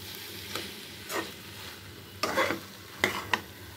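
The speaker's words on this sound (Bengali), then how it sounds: "বাঁধাকপিটাকে ততক্ষণ কষাতে হবে যতক্ষণ না এর জল শুকিয়ে না যায়" Cabbage sautéed and stirred in a pan with spices until its moisture dries off, giving a low steady sizzle broken by a few scraping stirs, the louder strokes grouped toward the end.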